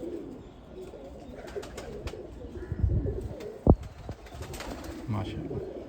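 Slate bichhu breed pigeons cooing softly in a loft, low murmuring coos repeating under a steady background hum, with one sharp knock partway through.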